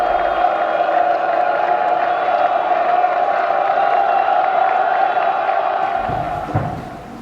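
Jewish worshippers raise a loud, sustained crowd roar of shouting and cheering while a steady ram's-horn shofar blast rings through it, the din continuous before tailing off at the very end.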